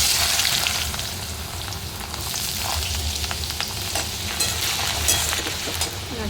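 Carrots hit hot oil in a kadai and fry with a dense, loud, continuous sizzle, broken by a few sharper crackles and stirring sounds, with no talking.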